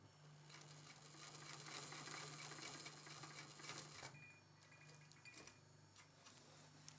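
An industrial sewing machine stitches canvas for a bespoke tailored jacket, running in a steady, close mechanical whir for about four seconds before stopping. Faint handling noises follow.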